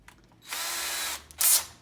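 A power drill spins up with a steady high whir for most of a second, then stops and gives a second, shorter and brighter burst; it sounds close, with no talking.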